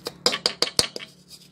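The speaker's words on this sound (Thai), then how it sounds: "เดี๋ยวจะขูดออกให้หมดก่อนนะครับพอดีมันยังติดขอบกระทะครับ" Roasted saltpeter scraped off the edge of a pan: about six quick, sharp scrapes in a fast rhythm, close and clear, fading out at the end.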